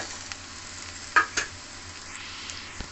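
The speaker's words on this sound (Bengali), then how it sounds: "আলু এখানে ভাজা হয়ে গেছে, এরপরে যে নিম পাতা ভাজাটা ছিল সেটা আমি এটা দিয়ে দেবো।" Potatoes and neem leaves fry in a pan with a low, steady sizzle, broken by a couple of sharp clinks from a utensil near the middle.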